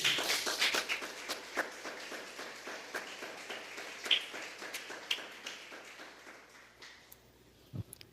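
A church congregation claps in a quick, steady rhythm, with sharp overlapping hand claps that fade out toward the end and a few louder isolated claps near the close.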